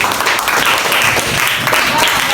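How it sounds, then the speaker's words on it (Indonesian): A classroom of students claps for a group after its presentation, a loud continuous rush of applause with voices mixed in. "tepuk tangan untuk kelompok 1"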